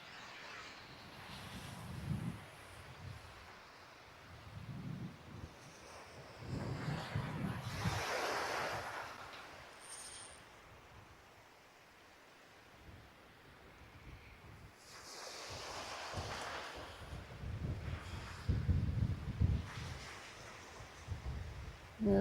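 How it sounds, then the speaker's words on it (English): Gusts of outdoor wind rumble and roar across the microphone while fishing, swelling and fading in uneven waves, with a quieter lull in the middle. "Actually a good breeze of wind now"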